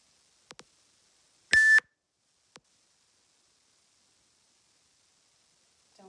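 Electronic timer beeps from a cross-training workout video: a few short faint blips, one louder longer tone near the start, another brief blip, then quiet, in an otherwise silent room.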